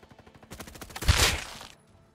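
Gunfire from the video game Frontlines: a loud, rapid automatic burst of about a second, preceded by lighter quick taps and fading into quiet.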